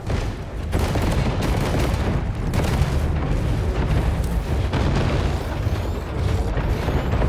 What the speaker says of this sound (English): Incoming missiles. Okay, just wait here for the missiles.